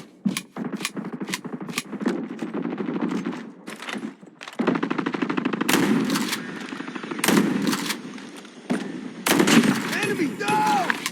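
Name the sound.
shotgun and gunfire in a video game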